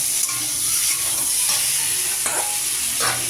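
Spice paste frying in oil for a lentil-dumpling curry sizzles steadily while a spoon scrapes and stirs through it in a few distinct strokes close by, with no talking.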